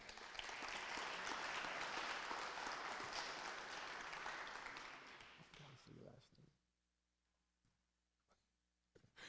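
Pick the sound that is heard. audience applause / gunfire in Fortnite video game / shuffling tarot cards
audience applause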